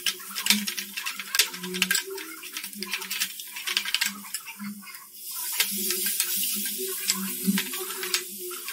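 Homemade red chilli powder and spices cooking in a pan for an egg curry, with a utensil scraping and clinking against the metal in quick irregular strokes, and a soft sizzle swelling in the second half.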